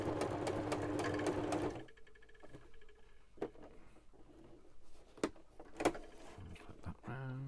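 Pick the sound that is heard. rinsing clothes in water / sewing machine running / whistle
sewing machine running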